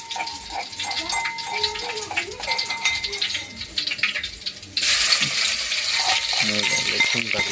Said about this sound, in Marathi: तेल तापलंय, आता त्याच्यामध्ये आपण लसूण टाकून घेऊ